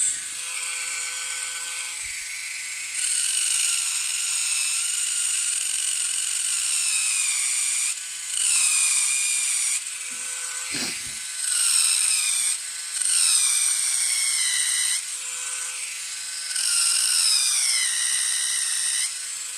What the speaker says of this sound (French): C'est normal que ça fait ce bruit là parce que j'enlève le bois.